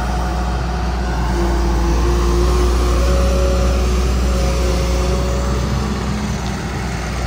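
A JCB NXT JS 205 excavator's diesel engine runs steadily and loudly, with a constant low rumble and faint tonal whine held throughout and no talk over it.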